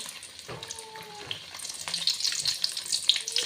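Buns deep-frying in hot oil give a steady, bubbling sizzle that builds louder over a few seconds, with faint clinks and small pops near the pan.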